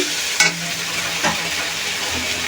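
Spice paste with turmeric frying in a pan for a spicy tomato rohu fish curry, a brief steady sizzle with a couple of sharp spatula scrapes.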